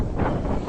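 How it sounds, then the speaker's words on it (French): Wind blowing outdoors in a Paris street near Saint-Eustache, a steady broadband rush with a slight swell in the middle, buffeting the microphone without any talk. "il y a un peu de vent"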